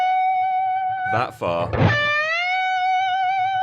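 An electric guitar holds a sustained note with a bright harmonic ring, then bends it smoothly upward by two whole tones, with someone briefly talking over the middle of the note.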